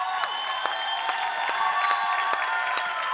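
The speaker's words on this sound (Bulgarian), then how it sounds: "Да изпратим се аплодисменти!" An audience at a Bulgarian televised music competition claps in scattered bursts over sustained, ringing musical tones, with faint cheering underneath.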